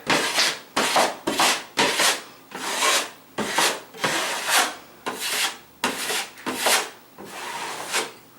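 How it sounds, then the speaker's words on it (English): A drywall knife scraping excess joint compound off a wall patch in about a dozen firm, evenly spaced strokes, each a rough, close rasping swipe with brief pauses between, no voices. "Pulling off all the excess. So I just pulled this smooth, and I have all the excess off"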